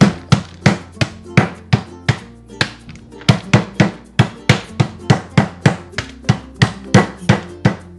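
Chicken breast is pounded flat on a board with a steady run of about twenty sharp, close thuds in an even rhythm, with only brief pauses between strikes.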